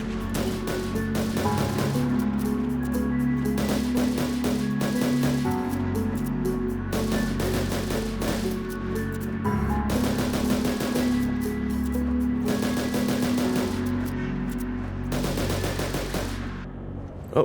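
Rapid gunfire from a gun in Ark Survival Evolved with the Primal Fear mod, sustained bursts of loud automatic shots with short breaks between them, close and dominating, with no talking.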